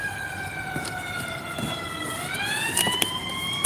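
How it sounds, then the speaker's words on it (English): Wailing emergency sirens rise and fall steadily, several tones overlapping at moderate distance, with faint road noise beneath and no one speaking. "Sorry about the sirens, but you know what type of neighborhood I live in."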